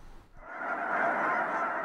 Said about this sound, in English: Colorado is getting an extended visit from an upstairs neighbor, the Canada goose